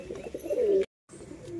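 A single pigeon coos in short, close bursts at home, the low throaty call rising and then cutting off abruptly into a brief silence before resuming more softly.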